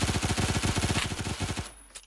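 Rapid automatic gunfire from shooting practice in the Roblox video game, a fast loud burst of evenly spaced shots lasting over a second and a half before cutting off.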